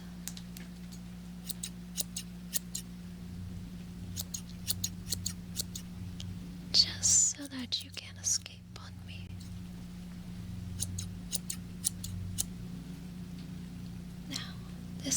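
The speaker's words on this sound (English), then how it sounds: "Just trimming the tips of the feathers" Scissors snip at the tips of wing feathers in a quiet indoor role-play setting, giving a few soft, close, crisp clicks among light rustling and a low steady hum, with whispered speech.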